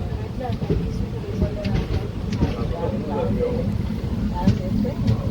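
The Hyderabad Superfast Express, running from Charlapalli to Chennai Central, rumbles slowly along the track with a steady low clatter and rolling drone, heard from inside the coach.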